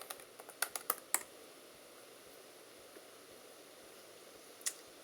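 Computer keyboard keys tapped in a quick burst of several faint clicks, then a pause and one more click, close and quiet with no talk.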